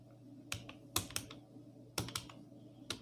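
Computer keyboard keys clatter in short, uneven bursts of taps with pauses between, quiet and close, as text is typed for web design work; no talking.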